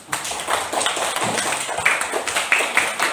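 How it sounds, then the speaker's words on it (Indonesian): A classroom of students claps for a classmate during a lesson: a few seconds of loose, scattered handclaps at moderate volume, with murmuring voices mixed in. "Sudah, silakan duduk, kasih tepuk tangan"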